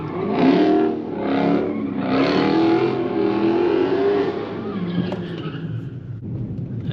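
An Infiniti M56 car doing donuts, its engine revving loud and steady for several seconds with tire squeal and skidding layered on top, fading slightly toward the end.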